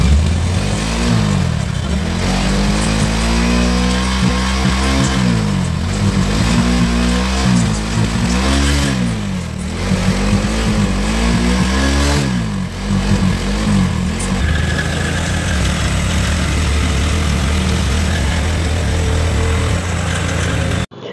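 A Hero Glamour motorcycle engine with a black smoke problem runs steadily up close, idling with a rough, throbbing rumble and occasional revs rising and falling throughout.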